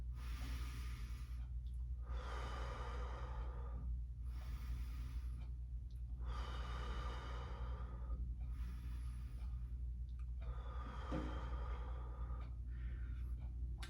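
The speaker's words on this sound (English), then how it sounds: "Take deep breaths." Slow, deep breaths drawn in and let out through the nose during a beginner yoga pose, in long, even cycles, close and soft over a steady low hum.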